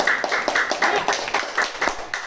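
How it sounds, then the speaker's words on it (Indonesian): A classroom of students clapping in unison for a student group, the claps landing in a steady, rhythmic beat of distinct sharp hits, moderately loud and close. "beri tepuk tangan dulu untuk kelompok"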